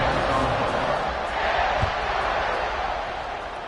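A football stadium crowd roars in a broad, sustained wash of cheering as a team lines up to kick off, the noise fading slightly toward the end.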